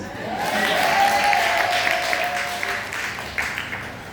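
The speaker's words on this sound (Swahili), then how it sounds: "Pigeni makofi basi." A church congregation at a conference breaks into applause, a swelling wash of clapping from a crowd that fades over a few seconds, with faint voices and a tonal hum beneath.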